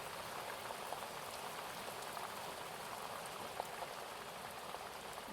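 Steady rain falls on a surface, a dense, even patter of drops with occasional slightly louder splashes, continuous and moderately soft with no voices.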